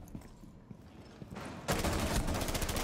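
Shots fired through a wall in a tactical shooter video game, with faint scattered thumps at first, then a sudden loud, dense burst of rapid gunfire continuing to the end.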